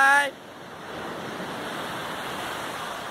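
Sea waves rolling onto a beach form a steady, broad wash of surf close by, with no speech in the clip. A brief burst of sound at the very start drops away before the surf settles in.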